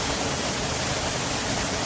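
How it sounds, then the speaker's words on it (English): Waterfalls rush in a VR mini golf video game on a pirate-themed course, a steady dense hiss of falling water, loud and unbroken with no other sounds. "got these waterfalls off to your left."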